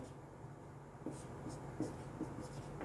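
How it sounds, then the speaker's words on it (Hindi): Chalk or a marker scratches across a board in short, faint strokes that repeat every half second or so, with quiet room tone between them. "तो देखो, लक्ष्य जो होंगे उनको हम लिखेंगे"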